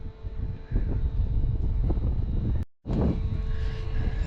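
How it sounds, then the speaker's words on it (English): Gusty wind buffets the microphone at the Falkirk Wheel boat lift in Scotland, a steady low roar broken by a brief dropout before the rumble returns just as loud. "It's a lot more windy than it was earlier."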